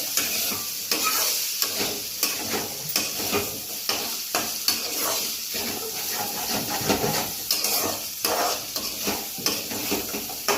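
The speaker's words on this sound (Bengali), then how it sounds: "আলুগুলো ভালো করে নাড়াচাড়া করে নিতে হবে।" Potatoes fry in a pan for a ghugni while a utensil stirs them in repeated scraping strokes over a constant hissing sizzle, with occasional metallic clinks against the pan and no talking.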